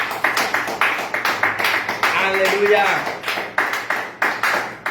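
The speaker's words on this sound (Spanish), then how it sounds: "Aplaude al Señor en esta noche." Church congregation clapping during an evening service, a rhythmic series of sharp, steady claps at a regular beat, with a voice calling out briefly in the middle.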